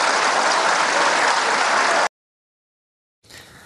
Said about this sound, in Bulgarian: аплодисментите заглушиха и допълнителната фраза